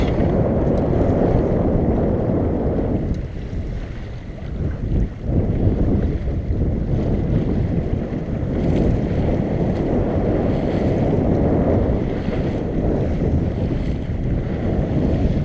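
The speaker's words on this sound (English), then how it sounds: "I wanted to show you the wind before we got too close to the island" Strong wind gusts roar steadily over a sailboat under way on open water near an island, a loud continuous rushing with waves and wind buffeting close to the microphone, no talking.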